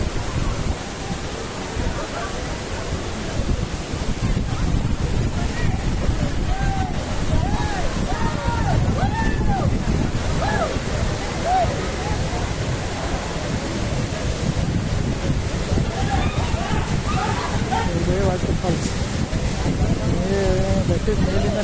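Vibhuti waterfall in Karnataka pouring down from a hillside, a constant broadband roar of falling water mixed with wind buffeting the microphone, while people talk over it.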